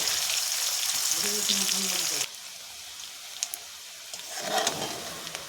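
Chopped onion sizzles and hisses in hot oil as it is stirred for a Bengali pangas and tengra fish curry. The sizzle is strong for about two seconds, then drops to a softer crackle with scraping stirs.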